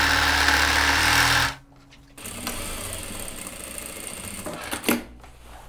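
A sewing machine stitches a straight seam joining the shoulders of a blazer, running loud and steady for about a second and a half before stopping, followed by quieter handling sounds and faint clicks.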